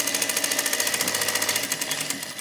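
A sewing machine rapidly stitching two tote bag pocket pieces together, a fast, even mechanical chatter of needle strokes, close and loud, running steadily and slowing slightly near the end.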